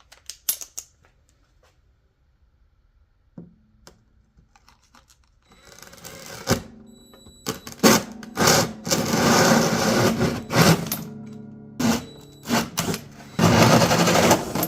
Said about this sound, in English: So let's go ahead and drill some holes.